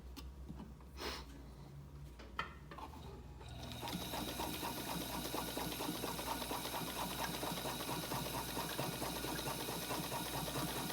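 A Toyota-made 1950s sewing machine stitches a long straight seam, starting after a few quiet seconds of faint handling clicks, then running in a steady, fast, soft chatter that stays even and fairly quiet to the end.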